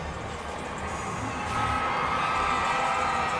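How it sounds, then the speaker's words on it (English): A large crowd at a downtown Los Angeles Dodgers celebration parade cheers and roars in a steady dense wash of voices that swells slightly halfway through. "Listen at the crowd there as he walks in, as they greet him."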